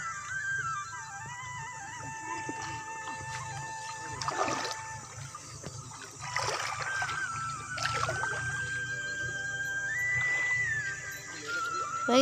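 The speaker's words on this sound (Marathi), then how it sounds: "बघा कशी नदी वाहती मस्त खळखळ आणि नितळ काच पाणी" A clear river flows over stones in farmland at dusk, a continuous soft gurgling and babbling of water, with faint whistling tones above it.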